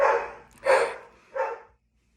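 A dog barks three times in a row, close and fairly loud, with short gaps between the barks before going quiet.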